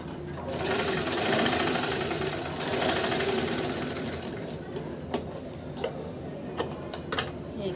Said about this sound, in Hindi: और अब सिलाई लगाएंगे।